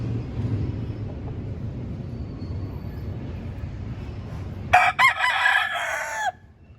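A gamefowl rooster crows once, loud and close, in the second half after a stretch of low background noise, with the crow ending abruptly.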